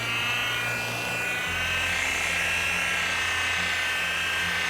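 A polisher with a fresh foam pad buffs the 13-year-old paint on a 67 GTX, a steady high electric whine with a low motor hum beneath, continuous and close.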